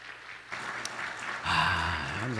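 A church congregation claps during an early-morning revival service, the applause rising after a brief pause and continuing under a voice.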